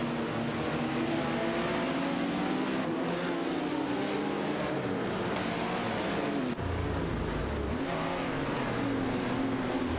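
A Porsche 936 and a Renault Alpine 442B race side by side in a racing video game, engines droning and revving loud and steady, pitch rising and falling as the cars accelerate and shift, with no talk.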